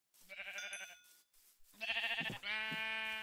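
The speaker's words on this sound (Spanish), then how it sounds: "¡Más ovejas!" Sheep in a modded Minecraft game bleat in several loud, close calls, one wavering bleat followed after a pause by two more in quick succession.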